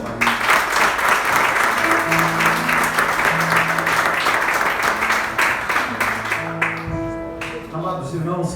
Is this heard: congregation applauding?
yes